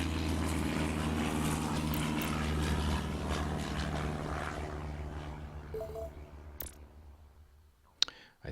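Propeller aircraft taxiing in the Airport Madness video game, a steady droning engine hum that fades away after a few seconds, followed by a few sharp clicks and near silence.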